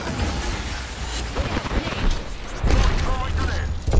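A grenade blast in Apex Legends bursts amid ongoing gunfire, a loud low boom late in a stretch of rattling combat noise, with players talking over it.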